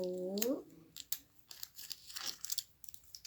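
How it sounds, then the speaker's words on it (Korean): Packing tape ripped off a box in several short, crackly tearing bursts, close up, after a brief vocal murmur at the start. "여기 이렇게 테이프를 뜯어 볼게요"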